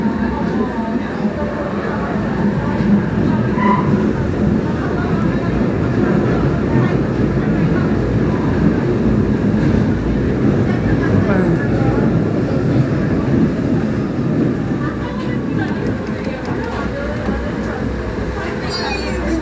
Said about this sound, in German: Oh, jetzt gibt es laute Querschleifgeräusche